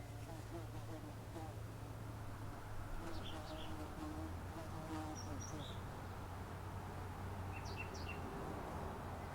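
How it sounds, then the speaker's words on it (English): A large bee buzzes near the listener outdoors in a backyard, a low steady hum under faint bird chirps and a passing voice. "Got this great big bee hanging around me. It's the size of a hummingbird."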